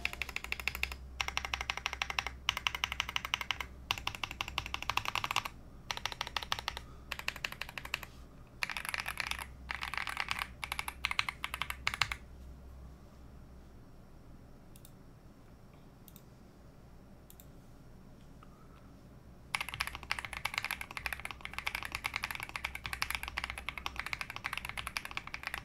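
Rapid clacky keystrokes from an AJAZZ AKS068 wireless Alice-layout mechanical keyboard, typed in bursts with a quiet pause midway before the typing resumes steadily and up close.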